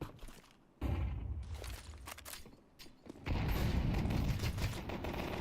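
Pistol fire in a Counter-Strike match, Deagle and Glock shots: loud bursts of gunfire and clatter come in two stretches, the second dense and sustained, with footsteps and game mechanisms between them and no talk.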